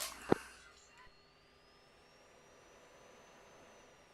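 A jet aircraft's engine spools for takeoff on the runway in the Falcon BMS flight simulator: a sharp click, then a faint, steady turbine whine that slowly rises in pitch.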